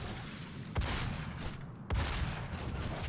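Gunfire in the video game DOOM: two sharp bursts of shots, roughly a second apart, loud over a dense, continuous game din of mechanical clatter and rumble.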